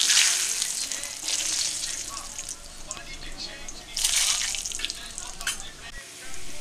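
Chopped garlic and Kashmiri chili powder sizzle in a small amount of oil in a pan, a steady hissing fry with brief louder surges.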